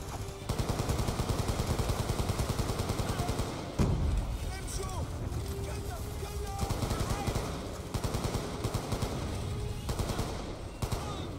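Sustained automatic gunfire from a Black Ops II match rattles almost nonstop, with a heavier blast near the four-second mark and dense bursts continuing throughout at close range.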